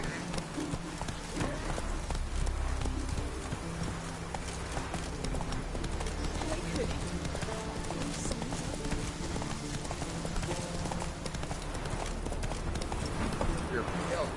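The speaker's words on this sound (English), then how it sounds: "Run, Roach" Galloping horse hooves from The Witcher 3 game, a steady fast clip-clop rhythm running throughout at moderate loudness, with voices talking over it and occasional game ambience.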